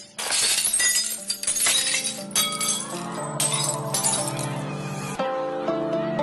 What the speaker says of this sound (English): all the energy in the sound of the singer's voice is transferred to the glass, and it shatters